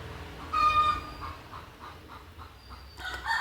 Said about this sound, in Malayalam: ഇതൊരു നാടൻ കോഴിയാണ് പുള്ളിക്കോഴി